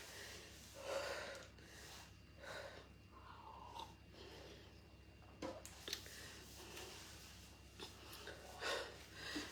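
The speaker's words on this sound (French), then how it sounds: "Je suis essoufflé." A breathless woman pants and gasps heavily, ragged audible breaths repeating close by at a steady, labored pace.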